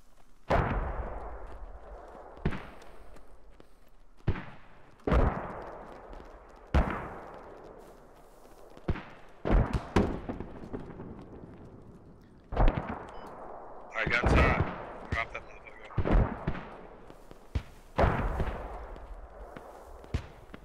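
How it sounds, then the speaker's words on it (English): Mortar rounds in the military shooter game Squad fire and land repeatedly, each a sharp boom roughly every two seconds with a rumbling tail, sometimes in quick pairs, steady over a low background. "Wait, I hear mortars to my east."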